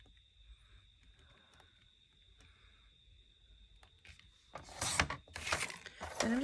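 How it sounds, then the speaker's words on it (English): A paper trimmer cuts paper: a near-silent stretch gives way to a couple of brief, close scraping and sliding bursts in the last two seconds. "And then I'm just going to take my trimmer and trim this down."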